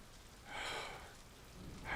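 Rain falls steadily through a stormy scene in a TV fantasy drama, swelling into brief louder washes that suggest distant rumbling thunder, with no talk over it.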